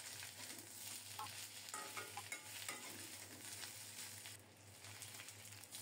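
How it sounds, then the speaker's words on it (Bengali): Rohu fish head frying with ginger-cumin paste, with a continuous sizzle and scattered scraping stir strokes against the pan, fairly quiet and close, with no talking. "আদা জিরা বাটা দিয়ে মাছের মাথাটা আরও কিছুক্ষণ কষিয়ে নেব।"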